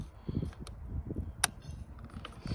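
A flathead screwdriver pries at the plastic tab of a rear blinker socket on a 2008 Ford Explorer, giving faint scraping and creaking with one sharp click, close up amid light handling noise.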